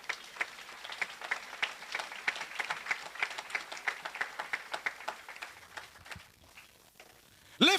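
Church congregation clapping in a steady rhythmic beat during praise, the claps tapering off toward the end before a short burst of voice.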